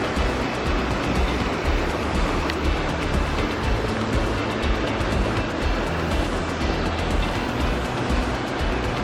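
Steady, dense rush of water running off a roof, like heavy runoff splattering down continuously, loud and unbroken throughout.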